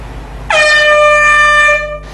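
An alert sound from the Google Alarm browser plugin gives one loud, sudden, siren-like blast. It holds steady for over a second, then cuts off abruptly.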